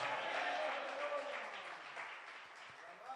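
Church congregation applauding, a quiet, diffuse patter of many hands that gradually fades, with faint voices mixed in behind it.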